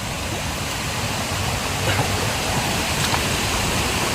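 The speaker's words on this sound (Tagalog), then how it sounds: "Napaka-presko ng tubig dito. Galing bundok." A fast mountain stream pours continuously nearby, a dense broadband splash and gurgle of water rushing over rocks, with no voices.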